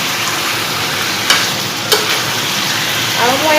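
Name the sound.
mutton frying in a pan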